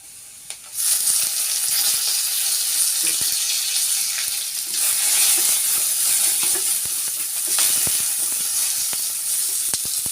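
Curry leaves drop into a hot, oily pan and set off a loud, steady sizzle and hiss that holds throughout, with a few faint clicks underneath.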